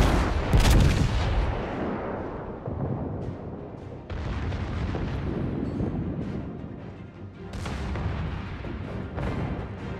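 Naval guns firing HE shells in the World of Warships naval battle game: repeated heavy booming salvos with rumbling blasts and dense explosions across the whole stretch, loud and close, with no talking.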